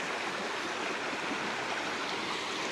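Shallow, slow-moving creek water in late summer runs as a soft, steady, hissing wash, faint and continuous with no other sounds over it.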